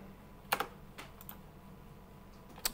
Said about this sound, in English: and I will type this in.